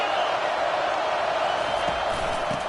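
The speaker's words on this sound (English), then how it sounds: "This crowd trying to make life miserable for this offense." Stadium crowd in EA Football during a Navy Midshipmen versus Notre Dame Fighting Irish game, a dense, steady roar with no breaks throughout.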